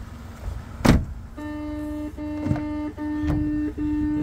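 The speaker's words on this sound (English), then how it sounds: "It's beeping at me because I've got the keys outside the car." A steady electronic beep tone from a 2022 Dacia Sandero with its keys left outside repeats in long sustained pulses with short gaps, preceded by a thud, close by with no talking.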